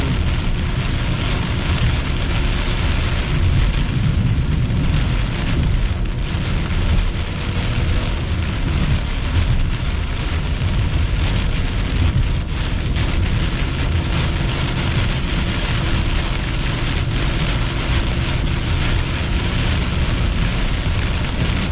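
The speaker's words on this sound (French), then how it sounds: "Bonne pluie, il y a des bonnes rafales de vent" Steady, heavy thunderstorm rain roars continuously close by, with surging wind gusts swelling and easing throughout.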